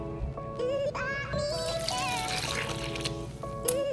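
A steady stream of coffee poured into chocolate cake batter, a continuous liquid trickle lasting several seconds with faint background tones running beneath it.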